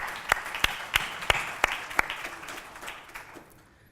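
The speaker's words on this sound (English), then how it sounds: "Please give yourself a round of applause." A few people at a school district's 150th celebration clap in an even, sharp rhythm, the claps spaced evenly before thinning out and fading away.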